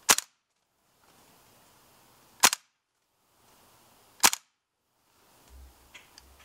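A WE PMC AK gas blowback airsoft rifle fires three sharp, loud single shots on semi-auto, spaced about two seconds apart, then a faint clatter follows.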